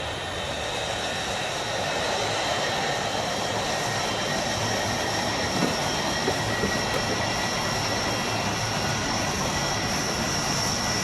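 An aircraft circling high above Tripoli gives a constant, even engine drone with steady tonal whines, unbroken for the whole stretch and heard as if from inside the cabin, with no talking.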